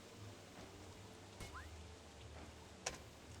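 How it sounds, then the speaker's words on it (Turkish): Steady rain falls in the survival game Don't Starve Together, a soft, even hiss that stays faint throughout with a couple of brief ticks and no voices. "Yağmur ne zaman duracak acaba ya?"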